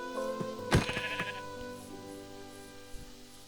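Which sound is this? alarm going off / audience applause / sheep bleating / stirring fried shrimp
sheep bleating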